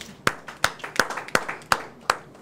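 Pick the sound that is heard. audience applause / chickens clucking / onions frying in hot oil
audience applause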